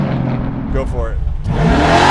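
850 hp all-motor Chevelle with a 632 cubic inch, 10-liter V8 launching hard, a loud rising engine roar that swells near the end with a voice briefly under it.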